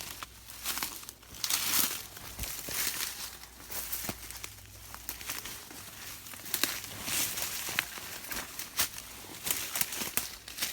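Footsteps crunch and rustle through dry leaf litter and brush on wooded rural acreage with big timber, an uneven walking rhythm of close, crackling steps with faint background ambience.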